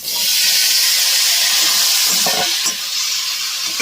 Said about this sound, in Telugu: మునక్కాయలు మునిగేంత వరకు వాటర్ వేసుకోవాలన్నమాట